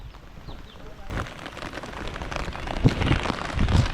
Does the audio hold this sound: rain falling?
yes